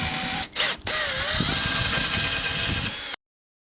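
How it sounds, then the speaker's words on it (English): A drill bores a starter hole for a jigsaw blade while a kitchen sink is fitted in a Ford Transit camper van, giving a steady, close, whining grind with a short dip near the start before it runs on and stops abruptly. "I'm going to drill a hole to start, and that's where I'll put my jigsaw blade into."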